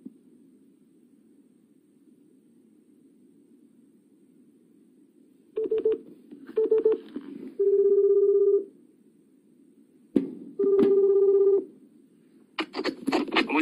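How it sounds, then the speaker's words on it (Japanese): A telephone being dialed for a call: a series of short DTMF keypad beeps in separate bursts, some quick and clustered, others held longer, heard clearly over a faint steady background hiss. "お電話をおかけしますね"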